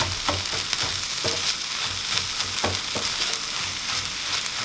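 Eggs frying in a pan with a steady crackling sizzle throughout, punctuated by occasional soft stirring taps, close and moderately loud with no talking.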